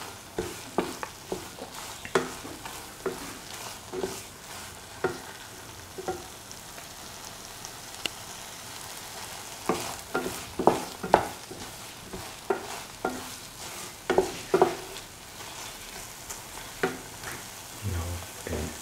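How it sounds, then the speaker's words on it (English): Fennel powder and salt get mixed into a spinach lentil coconut milk stew, with a spoon scraping and stirring in repeated strokes over a soft sizzle. "Salt and mix the fennel powder with the other ingredients."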